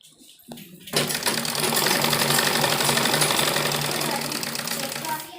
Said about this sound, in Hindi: ये डबल सिलाई हम इसमें लगाएंगे।